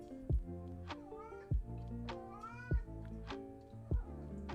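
A cat meows four times, each call short, distinct and evenly spaced, close by and fairly quiet indoors, with no talking between the calls.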